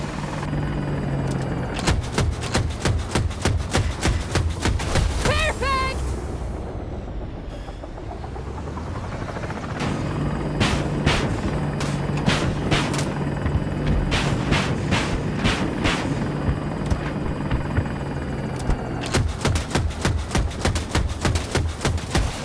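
An Apache attack helicopter in the video game Battlefield 2042 thrums with steady rotor chop and turbine whine throughout, loud and close, with a brief lull midway before the blade thumping returns.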